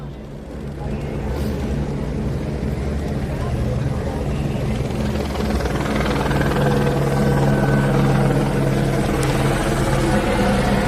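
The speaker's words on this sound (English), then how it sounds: "Helicopter's really low now." A helicopter flies low overhead during a curfew in Los Angeles, its loud, steady rotor thrum swelling slightly as it nears, with street noise around and a person speaking at times.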